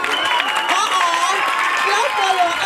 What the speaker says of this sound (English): Now I want you to clap for your mothers